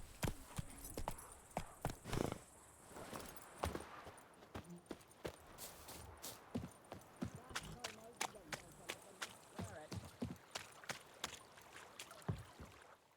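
Roach, a horse in The Witcher 3: Wild Hunt, gallops in a steady run of clip-clop hoofbeats, close and fairly loud over a background of ambient noise.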